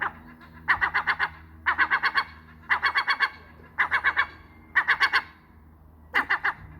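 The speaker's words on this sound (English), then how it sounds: "it's completely normal to have a seagull in your kitchen" A seagull kept indoors in a home kitchen gives repeated bursts of rapid clucking, chattering calls, about six evenly spaced bursts of three or four notes each, loud and close with no talking.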